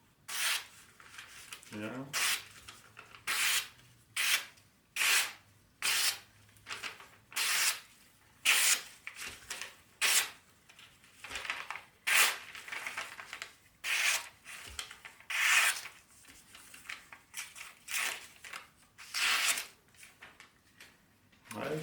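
A sharp custom knife slices through sheets of newspaper in a long series of crisp, rhythmic swishing cuts, close and clear, with a brief voice at one point.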